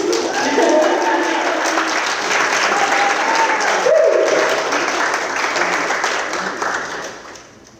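Audience applause fills a banquet hall at an awards ceremony, a dense, steady wash of clapping from many hands that holds for several seconds before tapering off, with faint voices mixed in.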